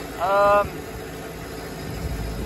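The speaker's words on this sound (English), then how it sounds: "This tractor really handles this drill pretty awesome, at least in flat ground" A John Deere 6210 tractor pulling a Great Plains drill across a flat hay field runs with a steady engine drone throughout, and a brief tonal squeal rises near the start.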